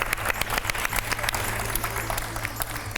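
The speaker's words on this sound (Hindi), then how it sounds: "एक बार तालियां हो जाए इनके लिए।" Studio audience at a televised Hindu religious quiz event applauds a correct answer, steady dense clapping filling the space with scattered louder claps, a short burst heard alone.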